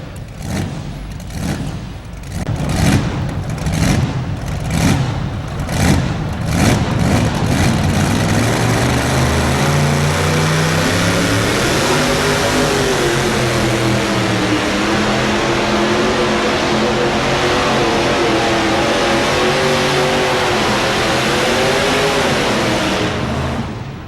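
A 2WD Kelly Chevrolet pulling truck at a truck pull in Louisville, its engine loud and close, first revving in sharp pulses, then roaring steadily and climbing as it pulls under a continuous heavy drone.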